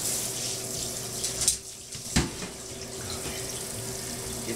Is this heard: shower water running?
yes